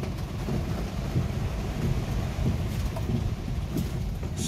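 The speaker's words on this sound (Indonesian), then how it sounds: "Asli ini hujan nggak main-main ya." Heavy rain pouring during a violent storm with strong wind on a new road near an air base in Tasikmalaya, a loud steady roar of rainfall with rumbling gusts throughout and no talk.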